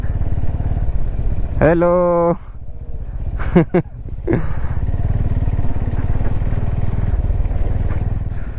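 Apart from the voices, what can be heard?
Bajaj Pulsar N250 motorcycle riding through mud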